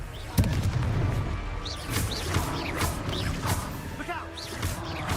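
A Confringo fire spell exploding in the Hogwarts Legacy video game, with a sudden loud burst followed by crackling magical effects and whooshing tones, while a voice speaks over the action.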